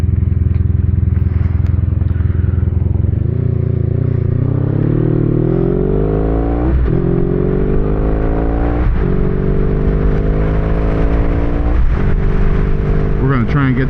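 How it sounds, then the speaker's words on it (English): A 1982 Honda Magna V45 motorcycle cruises with a loud, steady V-twin engine drone, pitch rising and falling through several gear changes as it pulls along close by. "this thing does kind of sound like a Harley with that V-twin noise"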